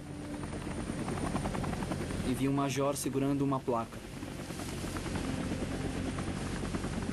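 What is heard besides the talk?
helicopter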